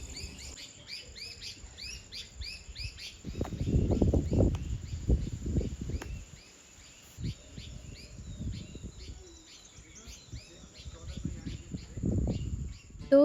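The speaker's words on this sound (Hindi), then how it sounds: "चिड़ियाओं की आवाज़।" Many small birds chirp and trill in quick, overlapping calls throughout, steady and fairly close, while low voices talk underneath in bursts.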